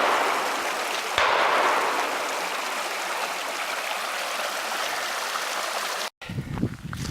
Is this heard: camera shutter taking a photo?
no